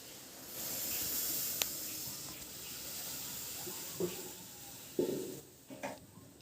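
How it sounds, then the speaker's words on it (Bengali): Tea boils in a pot on a home stove, giving a steady soft hiss with faint steam. A few light knocks and clinks sound near the end. "আর এই যে এখানে আবার চা বসিয়েছি, চাটা ফুটছে।"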